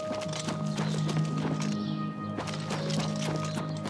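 Horse hooves clip-clopping at a steady walking rhythm in the video game Oblivion Remastered, moderately loud and close, layered over game ambience and music with no talking.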